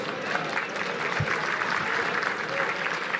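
Audience applause fills the room at the annual Mayor's Dinner in Newport Beach, a steady wash of many hands clapping at once with faint crowd noise beneath it.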